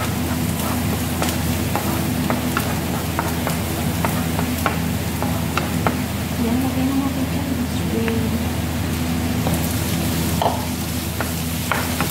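Shrimp fry in hot oil with a steady, dense sizzle throughout, marked by occasional crackles and pops while a pasta dish is cooked.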